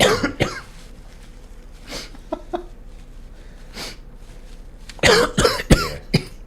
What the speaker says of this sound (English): I've never seen you cough that much.